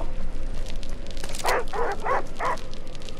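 Dogs barking in a Fortnite horror map, four quick loud barks in a row, close by and sharp, over a constant hissing game background with no one talking.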